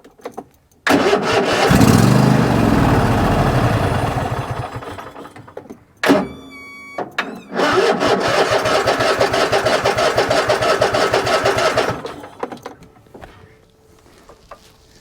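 A Cub Cadet XT1 riding mower engine cranks and catches, runs loudly for a few seconds, then cuts out. After a brief pause it starts again and settles into a steady mechanical idle before shutting off.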